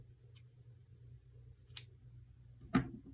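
Scissors trim a crochet yarn end on a bow: two faint snips come first, then a louder, close final cut in a quiet room.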